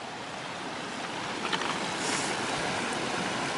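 A hiker wades a knee-deep creek crossing on the Pacific Crest Trail, with no log to cross on, beside snow; steady close rushing and splashing water fills the whole stretch, swelling slightly midway, with no talk.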